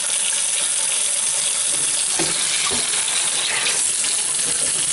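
Running water while a cast iron skillet is scrubbed with a steel wool pad, a steady close rush of tap water with faint scraping strokes.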